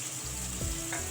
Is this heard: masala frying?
yes